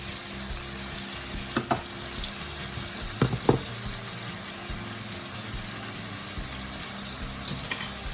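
Carbonara pasta is stirred in a pan, with soft wet sizzling and scraping under a faint background hiss and a few brief clatters of utensil against the pan, close and without talk.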